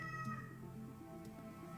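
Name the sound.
pet cat meowing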